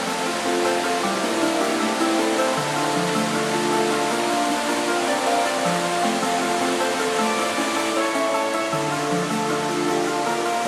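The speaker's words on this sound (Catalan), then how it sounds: "al fons em trobo amb aquesta preciosa cascada" Waterfall on the Catllar river, a steady broadband rush of falling water that stays loud and even throughout, with no voices over it.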